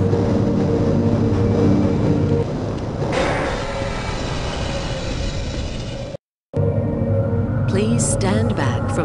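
The Black Mesa tram train in the video game Half-Life arriving at a station, a loud continuous rumbling and grinding rail drone under a voice announcement, briefly cutting out before rattling metallic clanks resume.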